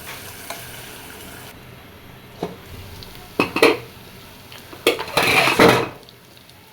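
Crushed fish being stirred and fried with spices in a pan, with a soft sizzle under intermittent scraping bursts of a spoon against the pan, growing louder and busier toward the end.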